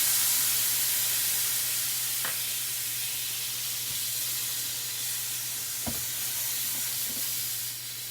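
Alcohol poured into a hot pan while deglazing, giving a continuous hissing sizzle over a low steady hum, with a few faint clinks along the way.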